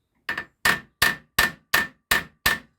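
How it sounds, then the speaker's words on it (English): Hammer peening over the rivets joining the inner and outer parts of a flywheel on a 1939 Excelsior Villiers 9D engine: seven sharp metallic blows in an even, steady rhythm, close and loud, with no talking. "I've re-secured these rivets because there was a little bit of play between the inner part of the flywheel and the outer part, just by peeling them over with a hammer."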